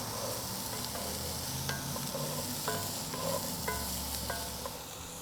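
Vegetables sizzle and fry in a pan with rendered Tasso ham fat and Cajun seasoning, a soft constant crackle with scattered pops and a few scraping stirs against the pan, quiet and close.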